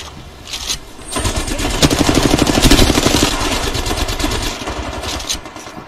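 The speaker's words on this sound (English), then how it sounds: "They're shooting." Rapid automatic gunfire from the video game Apex Legends rattles in a dense, sustained burst, loud and close, swelling in the middle and tapering off toward the end.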